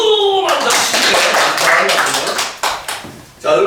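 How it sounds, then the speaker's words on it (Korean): An audience at a pansori storytelling performance claps briefly, a dense burst of hand claps that drops off into a few scattered claps, with voices mixed in around it. "박수!"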